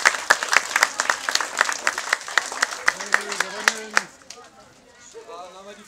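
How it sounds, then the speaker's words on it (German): Applause from the crowd at a girls' football day event, a dense run of clapping lasting about four seconds before it thins out and talk follows. "nochmal ein Applaus für die 2000."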